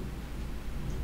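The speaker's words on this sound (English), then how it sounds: "You can probably hear the thunderstorm outside" A thunderstorm outside gives a faint, continuous low rumble with soft rain-like hiss, distant and even throughout the short stretch, no one speaking.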